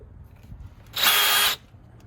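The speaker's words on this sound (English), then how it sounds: "Just drill through." A power drill whirs loudly for about half a second, a steady high-pitched burst that starts and stops abruptly against quiet room noise, drilling through while installing a train horn kit.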